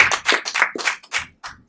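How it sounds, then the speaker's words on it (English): A small audience at a Drupal meetup claps for the Free Software Foundation, a few distinct close handclaps in a short uneven burst separated by brief gaps. "a round of applause to Free Software Foundation"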